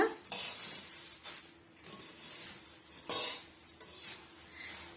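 Green chillies are stir-roasted in a pan until crispy, with a spoon clinking and scraping against the metal pan in irregular bursts over a low background hiss; no voices.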